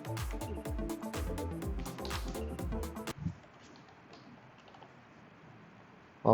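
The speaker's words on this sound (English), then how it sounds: "I'm typing for you." Someone types on a computer keyboard during a lecture, making a rapid, busy run of close key clicks and taps for about three seconds. Faint scattered clicks follow, then a short louder knock at the end.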